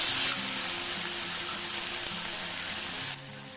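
Spice paste of cashew, poppy seed and almond hits hot oil in a pan for a vegetarian jackfruit malai kofta curry, giving a steady, dense sizzle with a sharp hiss at the start that drops a little near the end.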